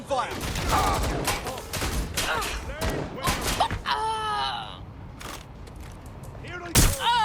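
Gunfire in the video game Watch Dogs: Legion, a rapid cluster of loud, sharp shots and bursts amid shouting and electronic game effects, with one more heavy blast near the end.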